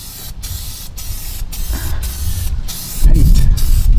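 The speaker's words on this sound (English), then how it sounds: "when you're spraying this, it says not to hit any of the brake components" Amsoil Mudslinger undercoating sprayed from an aerosol onto the underside of a Ford Bronco, a loud close hissing spray in short bursts broken by brief pauses, swelling louder toward the end.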